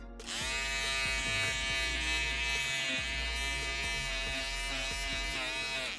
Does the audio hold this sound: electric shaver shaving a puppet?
yes